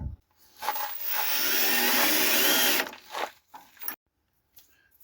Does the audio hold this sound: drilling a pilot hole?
yes